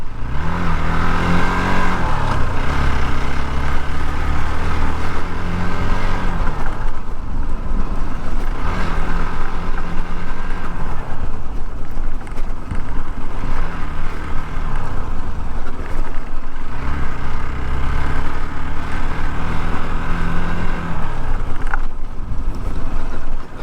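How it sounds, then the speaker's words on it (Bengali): A Hero Xpulse 200 4V motorcycle rides off-road on a dusty track. The engine drones loudly and steadily throughout, rising and falling with gear changes under heavy wind buffeting on the microphone. "এখন অফরোডিংয়ে যাচ্ছি বাইকটা আপনাদের"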